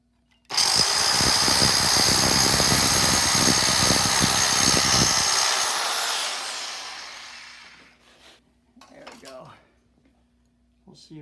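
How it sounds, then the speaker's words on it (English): A powered tool grinds the edge of a kitchen backsplash tile to smooth it, a loud steady whine with a gritty rasp for about six seconds, then winds down, and someone speaks briefly afterward. "take one of these pieces down here and rub that edge a little smoother"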